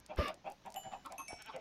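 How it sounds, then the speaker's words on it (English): Chickens clucking in the Minecraft video game, baby chickens being bred from eggs, with a louder cluck near the start followed by a run of softer repeated clucks. "I decided baby chickens were the way to go."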